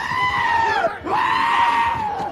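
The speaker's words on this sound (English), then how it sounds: "Giant goats!" Giant goats from a Thor movie let out loud, drawn-out screaming bleats, two strained calls split by a brief dip, close and filling the moment with no talk.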